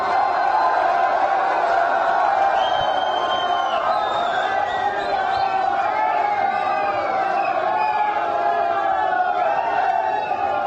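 Large outdoor crowd at a statue unveiling event in Yamkeshwar, a continuous dense roar of cheering, shouting and whoops that holds steady and loud throughout.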